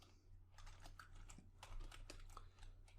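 Close, quiet typing on a computer keyboard: a steady run of light key clicks and taps with brief pauses, over a low electrical hum and without any talk.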